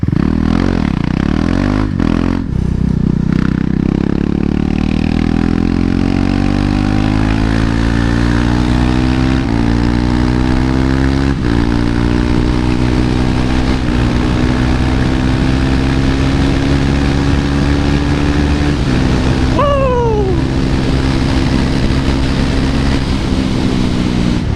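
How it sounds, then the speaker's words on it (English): KTM 390 Duke motorcycle engine revving loud and close while spinning the rear tire to clear mud, its pitch climbing steadily in a long sustained rev with a brief dip and scrape near the end. "let's go ahead and get that mud off the tire"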